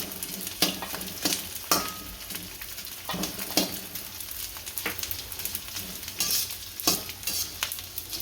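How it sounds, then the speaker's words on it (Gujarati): Edible gum resin frying in hot ghee in a pan while churma ladoo is being made, a steady close sizzle with intermittent stirring scrapes and clinks, no voices. "આ ગુંદર તળાઈ ગયો છે, આમ કાઢી લેશું."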